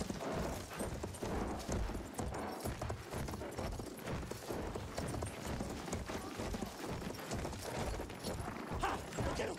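Horse galloping in the video game Battlefield 1: rapid, rhythmic hoofbeats pounding close and loud in a steady continuous run, with no talking.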